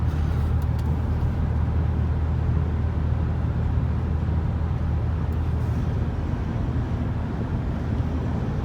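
A 1998 Ford Windstar van with air suspension drives along the road, heard from inside the cabin as a steady, loud low rumble of engine and tyre noise with no talking.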